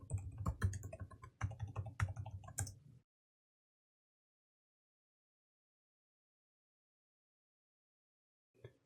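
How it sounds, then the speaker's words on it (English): Quick, close keystrokes on a computer keyboard tap out a password in a rapid burst for about three seconds, followed by silence and one faint sound near the end. "type in the password yet again"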